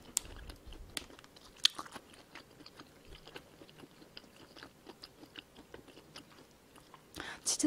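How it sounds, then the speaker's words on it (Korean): Someone bites into and chews a Lotteria cheese stick close to the microphone, with soft crunches and chewing scattered over several seconds, quiet and intimate, and a louder crunchy stretch near the end. "치즈 스틱 먼저 먹을게요."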